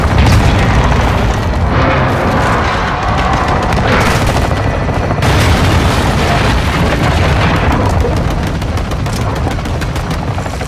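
Heavy airstrike explosions in the Modern Warfare II video game, a dense, loud barrage of booms and rumbling blasts with gunfire-like crackle running continuously throughout.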